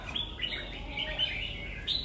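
A red-whiskered bulbul gives short, bright chirps and tweets that repeat in a quick, uneven sequence. The calls are fairly close but quiet, and there is no talk.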